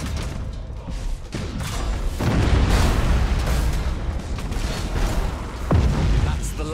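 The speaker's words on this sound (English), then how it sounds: "Torpedoes away." Spaceship torpedoes launch in the Battlefleet Gothic Armada 2 space battle, a loud, sustained wash of deep rumbling booms and bursts that swells and holds, with a sharp crack near the end.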